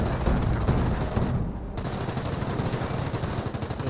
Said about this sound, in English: Enemy fire! Enemy squad taking heat!